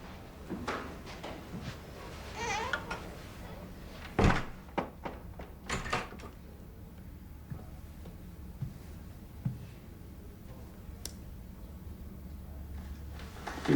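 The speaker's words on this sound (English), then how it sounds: "Close the door." A door in an office scene of a period detective drama shuts with one solid, close thunk midway through, with a few softer knocks and shuffles around it in an otherwise quiet room.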